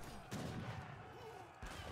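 Heavy cannons and musket volleys fire during a video game battle, sounding as a dense crackle of overlapping shots with sharper booms near the start and end, moderately loud.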